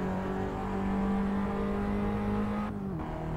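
A race car in a sim racing game, played on a Logitech G29 wheel, holds a steady loud engine drone with a slight pitch shift near the end, no talk over it.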